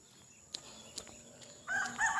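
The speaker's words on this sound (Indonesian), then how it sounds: "ini ayam berkokok" Roosters crowing and answering each other from a neighbor's yard in Kolaka, Pomala, with a faint distant crow followed by a louder, nearer crow rising near the end, over light background noise and clicks.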